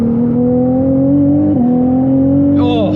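A Ferrari GT3 of roughly 830 horsepower accelerates hard on the Autobahn, its engine a loud, steady rising drone with one brief dip as it shifts gears, and a higher whine sweeping in near the end.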